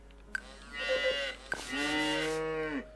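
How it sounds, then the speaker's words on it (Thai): Cows moo in the farming video game Story of Seasons, two drawn-out calls in a row, each opening with a short click, clear and moderately loud with no talk. "มาดูพวกวัวตัวเล็กกันก่อน"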